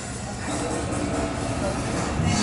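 Loaded CSX rock train passing eastbound, a loud, continuous close rumble and rush of rail cars with steady wheel noise throughout.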